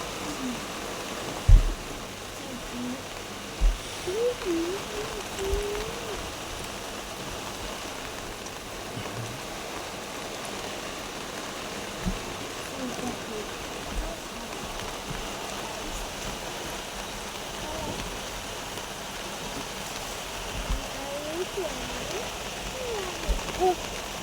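Steady rain hisses across a broad wash of noise, with occasional drips and thuds standing out, continuous and fairly close throughout.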